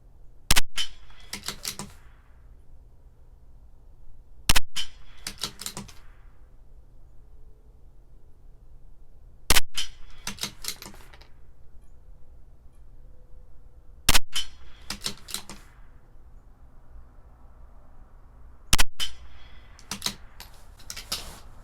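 A CZ 457 LRP rimfire rifle with an Ibi barrel fires Lapua ammunition at a 50-yard target, five sharp, evenly spaced shots a few seconds apart, each with a short ringing tail over quiet background.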